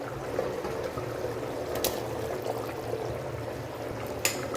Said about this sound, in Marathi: उकळी आलेली आहे।